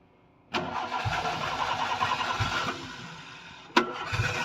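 A car with a 2E carburetor engine cranks and fires after a short silence, settling into a steady close idle before a second start burst near the end; no talk.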